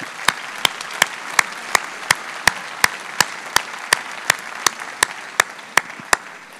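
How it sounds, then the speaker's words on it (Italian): Warm applause from an audience at an evening debate event, steady crowd clapping with one nearby pair of hands standing out in a regular, sharp rhythm throughout. "vorrei dedicare un caloroso applauso"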